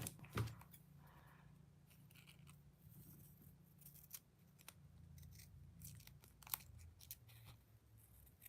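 Scissors snip through paper for a journaling page, a few crisp close cuts with soft rustling between them, no talking.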